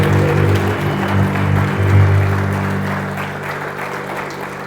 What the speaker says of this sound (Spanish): Vamos a aplaudirlo fuerte.